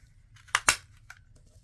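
Scissors cut paper out of an envelope with two quick, close snips in rapid succession, followed by a fainter third snip in an otherwise quiet room.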